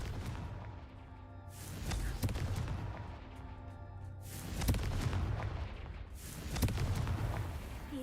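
Repeated Confringo blasting-spell explosions in a magic video game, several booming bursts rising over a low, steady game background at moderate distance.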